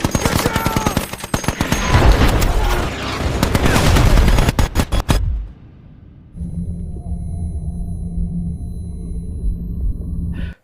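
Enemy ambush in War Machine: loud rapid machine-gun fire and heavy blasts crackle densely for about five seconds, then cut to a low rumbling hum with a faint steady drone.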